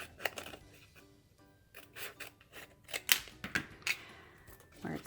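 Scissors trim around a Cricut-cut infusible ink design, making a series of soft, close snips and rustling paper rubs in an irregular rhythm, quiet and up close.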